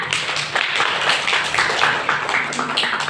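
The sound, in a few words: class applauding a student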